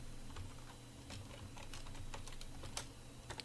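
Quick, uneven keystrokes on a computer keyboard while working in Roblox Studio, soft clicks at close range over a low background hum.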